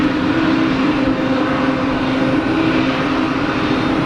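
Aircraft at Geneva Airport, a loud continuous engine roar with a steady droning tone, holding an even level with no break.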